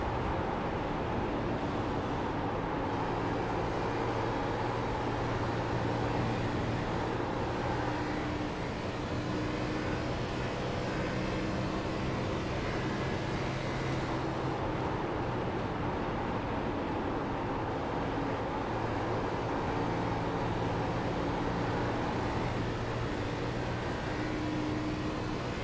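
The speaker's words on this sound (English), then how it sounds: "Let's listen to the throttle on that 42." Onboard throttle of car 42 in a Las Vegas sim racing game, a sustained engine drone rising and falling with throttle changes, continuous and fairly quiet.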